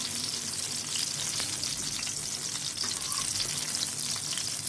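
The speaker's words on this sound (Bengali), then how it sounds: "বেগুনগুলো এই কয়টা বেগুন ভাজা হয়ে গেছে, আমি আরও কিছু আবার ভেজে নিচ্ছি।" Pieces of eggplant fry in oil in a pan, giving a steady, dense sizzle and crackle that runs loud and unbroken throughout with no talking.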